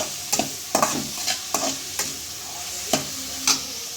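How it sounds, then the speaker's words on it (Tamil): Onions sautéing in a pan for idly upma, a steady sizzle punctuated by regular scraping strokes of a spoon stirring, close and moderately loud, with no speech. "வெங்காயம் நல்லா பொருளை வதங்கணும்."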